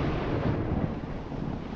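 A deep thunder rumble rolls under steady rain as an atmospheric sound effect in a romantic audio drama, low and continuous without speech.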